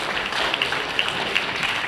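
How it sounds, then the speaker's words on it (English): Audience applause at a business seminar, a steady wash of many hands clapping at moderate level throughout, with a few sharper individual claps standing out. "A big applause to all of them,"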